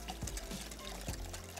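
About a cup of water is poured into a bowl of yogurt mixed with garam masala and cumin powder, giving a short, soft splashing pour at close range.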